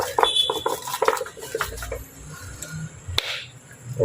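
A spoon clinks and scrapes against a metal pot while salt is stirred into egusi soup in a village kitchen, giving irregular close taps and knocks with faint background sounds.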